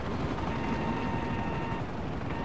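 An attacking helicopter in the video game GTA Online, a steady low rotor drone with a dull rumble that holds at an even level throughout, with no voices over it.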